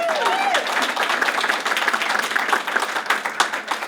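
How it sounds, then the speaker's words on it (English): An audience at a talk show celebration breaks into a round of clapping for three women legislators, individual claps distinct and quickening, with a brief whistle-like tone near the start. "How about a round of applause?"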